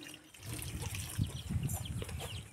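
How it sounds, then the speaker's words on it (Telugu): Water poured into a clay pot holding washed sweet potatoes, a steady liquid splashing and trickling close by with a low gurgling body, continuous for a couple of seconds, no talk. "కుండలో పేరు చేసుకుని వాటర్ అయితే వేసేస్తున్నాను"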